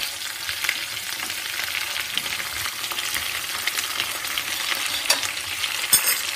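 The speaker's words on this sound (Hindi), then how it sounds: "तेल गर्म है और गुड़ हमारा पिघल जाएगा।" Jaggery melts and fries in hot oil for a sweet turnip pickle, giving a steady close sizzle with scattered crackling pops, no talking.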